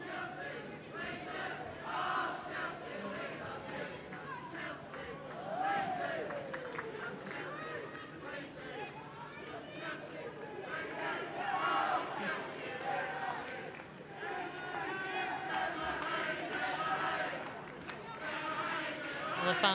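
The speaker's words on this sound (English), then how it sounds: "the fans now cheering on the Chelsea manager, Emma Hayes" Football crowd at a Women's Super League match between Chelsea and West Ham United, sustained cheering and chanting filling the stadium, a steady dense roar rising and falling throughout without pause.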